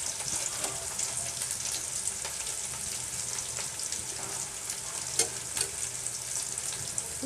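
Cinnamon and cloves frying in hot oil for a chutney, a steady close sizzle with faint stirring clinks scattered through, no voices.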